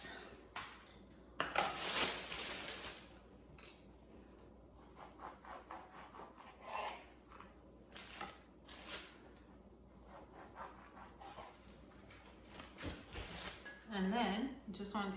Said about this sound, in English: And now I'll slice up my dinner rolls.